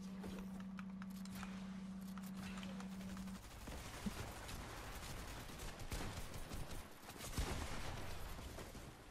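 Rapid bursts of gunfire in a Fortnite Reload match, crackling shots in close repeated volleys with footsteps and game effects mixed in, steady and fairly loud, no voices.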